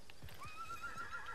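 A video-game horse in Realm Royale lets out a rising whinny over rapid galloping hoofbeats, all heard together within a second and a half, with no speech.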